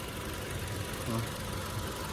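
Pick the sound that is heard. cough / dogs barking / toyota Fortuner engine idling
toyota Fortuner engine idling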